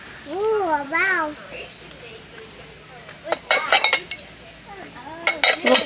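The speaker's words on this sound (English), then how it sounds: "Little pasta bowls." Ceramic pasta bowls clink and knock against each other as they are handled, several sharp clusters of clinks following a voice.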